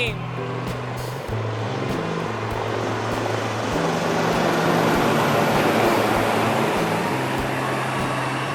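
Steady, heavy rotor drone of the Indian Air Force Sarang Helicopter Display Team passing overhead in formation at Chennai Marina, a continuous low roar with a constant hum underneath, loud and sustained.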